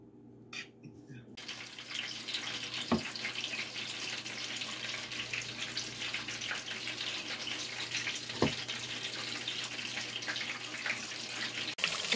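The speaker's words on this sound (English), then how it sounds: "We have this batch of egg rolls going, frying." Egg rolls frying in a batch of hot oil, a steady soft sizzle and crackle throughout with a couple of faint clicks, fairly quiet and without talk.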